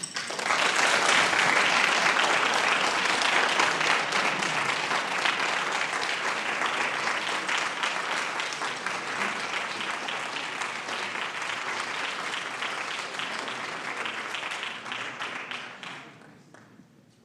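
Sustained applause from an audience at the Eleanor Roosevelt Prize reception for awardees, dense clapping that starts at full strength, thins slightly over many seconds and tapers off near the end.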